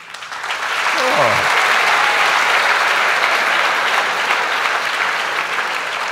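An audience at a college talk bursts into sustained applause, loud and dense, swelling within the first second and holding steady for several seconds, with a brief voice at the start.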